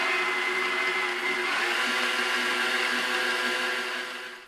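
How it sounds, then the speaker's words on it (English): A stand mixer with a whisk attachment beats a tiramisu mixture with Marsala wine, a steady loud motor whir with harmonic hum that runs continuously and fades slightly at the end, with no talking. "I'm going to put my whisk back on my mixer"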